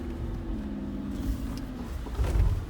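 A 2019 Mercedes G63 climbs a torsion test ramp onto two wheels, its engine a steady close rumble that swells louder near the end, with no talk.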